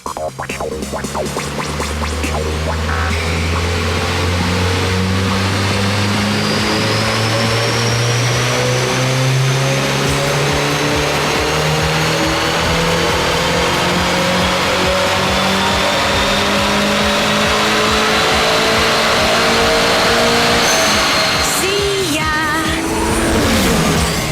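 A turbocharged car strapped to a four-wheel drive dynamometer revs hard, its engine climbing steadily in pitch through a long, loud, continuous pull, then easing off at the end.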